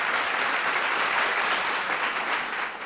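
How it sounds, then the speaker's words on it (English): Audience applause at a school quiz competition, a steady burst of many hands clapping together, loud and sustained for about three seconds before easing slightly. "A big round of applause."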